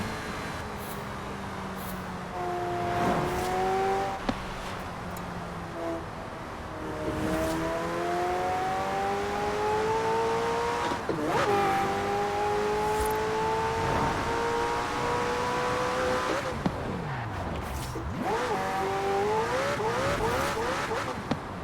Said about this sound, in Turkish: Araba nasıl bağırıyor ama? Vites atmayalım.